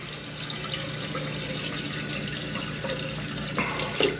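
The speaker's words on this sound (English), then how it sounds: "turn the water on" Water runs steadily from a tap while a toilet is being refilled after a repair, a continuous close hiss and splash with a few small clunks near the end.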